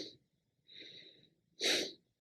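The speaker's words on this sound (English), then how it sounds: "As you exhale, press in sharply with your lower belly and then just breathe in" Three sharp breaths through the nose in a breathing exercise: a short exhale, a longer steadier breath in, then a loud forceful exhale pressed from the lower belly, close and isolated against silence.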